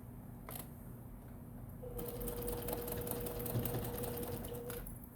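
A sewing machine runs steadily while stitching a double pocket bag, starting after a quiet moment and humming with a continuous motor whine and fast needle chatter, close and alone.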